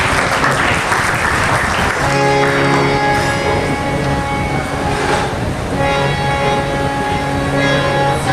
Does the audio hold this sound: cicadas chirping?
no